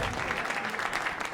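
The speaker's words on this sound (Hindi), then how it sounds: "एक बार जोरदार तालियां" An audience at a comedy talent show applauds a contestant with dense, continuous clapping, close and fairly loud, and faint crowd noise mixed in.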